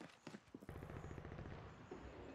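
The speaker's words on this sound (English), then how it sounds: "I hear gunfire." Gunfire in Call of Duty Warzone: a faint rapid rattle of repeated shots, heard at a distance.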